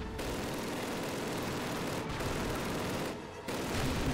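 Sustained heavy gunfire in Call of Duty on Veteran difficulty, a dense, steady roar of rapid shots with two brief dips, likely from a mounted gun firing at a tank.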